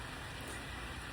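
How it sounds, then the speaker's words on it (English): Steady rain falls in Tennessee, a dense, even hiss of drops on outdoor surfaces with no talking over it. "It's raining. It's raining. Can you hear it?"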